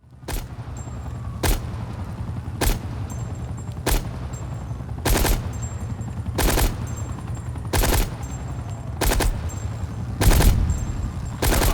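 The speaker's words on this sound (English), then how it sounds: "It was every single time I shot a 2-round burst, the guns would go ahead and play 3 gunshot sounds." Evenly spaced sharp gunshot bursts from Call of Duty: Black Ops Cold War, about ten in a row roughly a second apart, over a constant low rumble; a two-round burst bug plays three shots each.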